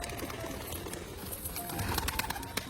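Pigeons, including white and crested birds, cooing near their cages, a low soft burble repeating through the clip with faint rustling and scattered clicks; no one speaks.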